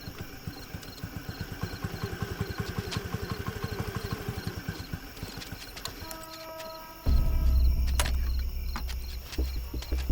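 A motorbike engine runs with a fast regular putter that fades as it slows and stops, followed by a louder low rumble and clunks, with no talk.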